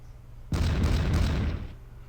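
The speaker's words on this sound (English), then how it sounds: "That artillery back there is frustrating." Artillery in the pike-and-shot era strategy game Pike and Shot Campaigns, set at the 1568 Battle of Heiligerlee, fires a sudden loud boom that rumbles on for about a second before fading, with no talk over it.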